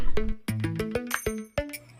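A notification bell sound effect chimes in a quick series of bright, metallic dings, several separate strikes ringing close and clear with short decays, no talk.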